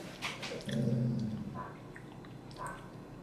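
Neighbourhood dogs bark far off, a faint, muffled burst of a second or so in an otherwise quiet indoor room.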